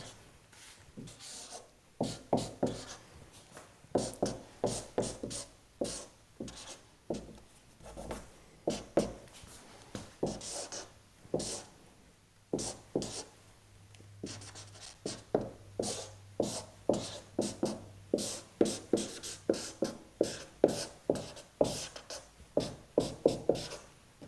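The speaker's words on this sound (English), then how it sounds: "So just give me a moment to write this out." A pen scratches out a long physics equation on a writing surface in quick, irregular strokes and taps, close and fairly quiet, with brief pauses between bursts.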